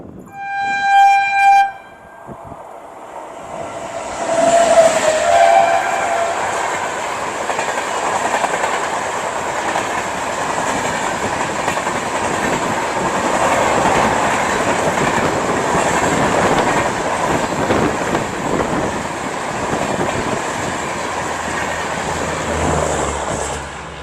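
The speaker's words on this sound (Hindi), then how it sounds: "सामने से कोई ट्रेन आ रही है, ट्रेन की क्रॉसिंग हो रही है।" A Mangala Lakshadweep Express train passes through a railway station crossing, opening with a loud, sustained train horn. A long steady roar of wheels and passing coaches follows, with rumbling clatter that stays close and loud throughout, and no voices.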